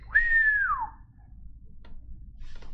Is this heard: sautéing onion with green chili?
no